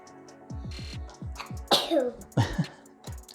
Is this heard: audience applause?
no